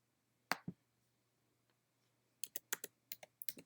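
Quiet keystrokes on a computer keyboard: two isolated taps, a pause, then a quick run of about ten clicks as a figure is entered into a spreadsheet cell.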